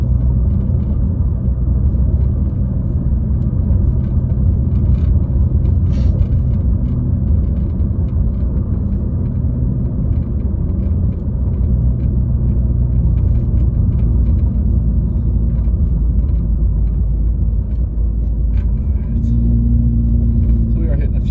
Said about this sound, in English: This is probably a lot of traffic leaving town.